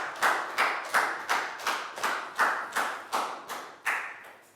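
A class claps in rhythm for a student in a Year 4 math lesson, about ten evenly spaced group claps, close and fairly loud, with no talking.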